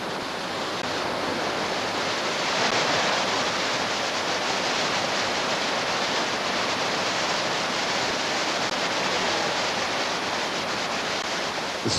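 River water pouring over a weir, a dense, continuous rushing hiss that stays loud and even throughout, with no talk or other sounds.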